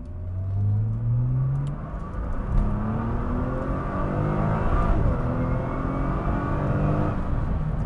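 A 2013 Nissan GT-R accelerating in automatic mode, engine note rising through several upshifts with a steady whirring drone heard from inside the car, no speech.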